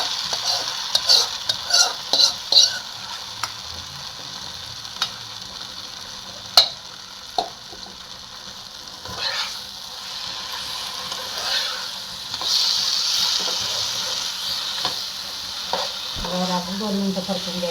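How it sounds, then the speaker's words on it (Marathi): Mashed roasted eggplant bharit is stirred and sautéed in a pan, with a continuous soft sizzle and scattered spoon scrapes and clicks against the pan, close up. "आपण 2 मिनटं परतून द्यायची आपल्याला."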